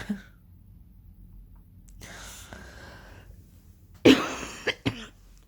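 An ill person coughs alone in a quiet room: a small cough at the start, a hoarse breathy sound, then a loud hacking burst with two smaller coughs.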